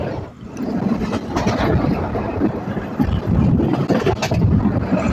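Rumbling, rattling noise of the Rupsha Express passenger train with rhythmic clatter and wind buffeting, heard from on board as it crosses the British-era Pakshi railway bridge in Bangladesh.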